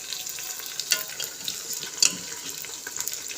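Chicken pieces going into a pan of sizzling fried onions for chicken haleem, a steady broadband hiss of frying with a few sharper crackles and pops, close and fairly quiet, no talking.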